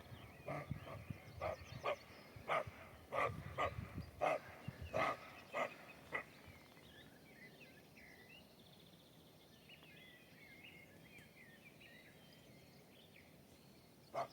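A series of sharp, hoarse barks from a roe deer, roughly a dozen spaced calls over several seconds, then quiet outdoor ambience with faint birdsong.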